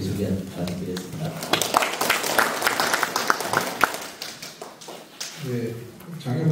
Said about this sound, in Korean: 장철호 단장님께 다시 한번 박수 부탁드립니다